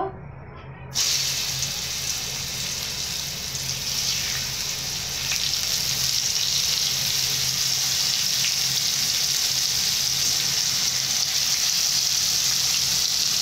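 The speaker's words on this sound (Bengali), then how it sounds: "এঁচড়গুলো আমি ভেজে নেব।" Green jackfruit pieces fry in hot oil for a biryani, a loud, steady, broadband sizzle that starts abruptly after a second of quiet and roars on continuously without talk.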